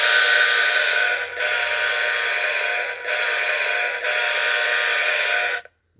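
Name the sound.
Rock Island horn on Atlas Trainman O gauge toy locomotive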